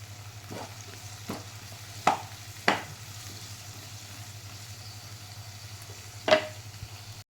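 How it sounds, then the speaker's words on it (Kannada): Tomato and onion frying in a pan, a quiet low sizzle underneath with a few sharp utensil scrapes and knocks spaced irregularly, near and fairly faint. "ಈಗ ಟೊಮೊಟೊ ಹಾಕ್ಕೊಂಡು ಸರಿಯಾಗಿ ಹುರಿಯಿರಿ"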